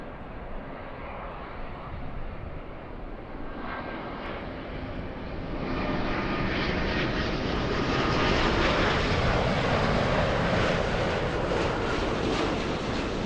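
A Qatar Airways Airbus A350-1000 arriving from Doha passes overhead, its jet roar building from a moderate rush to a louder, fuller sweep that holds steady to the end.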